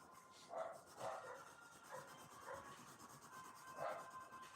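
A dog barks downstairs in a home, muffled and distant. There are several separate barks at irregular intervals over a faint scratching background.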